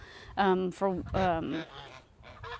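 Several loud, harsh goose honks in quick succession, close by, with brief gaps between calls and a quieter honk near the end.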